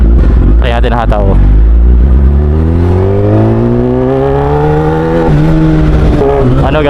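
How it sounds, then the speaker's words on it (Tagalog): A Kawasaki ZX-10R sport motorcycle engine revs up loudly and climbs steadily in pitch as it accelerates, close to the microphone, with brief speech at the start. "Napakasarap talaga ng ZX-10R. Try natin hataw."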